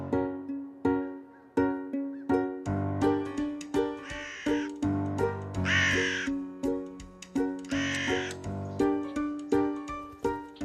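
Crows caw again and again in loud, harsh, rhythmic bursts close by, with several calls overlapping in the middle and no other sounds.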